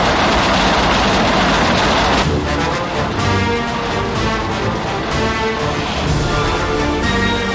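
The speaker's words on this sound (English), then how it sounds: "But our trains are very powerful, as we can plainly see here." A powerful freight train in the city-building game Workers & Resources: Soviet Republic runs with a loud, continuous rumble and rhythmic clatter, climbing a steep bridge, with no voices.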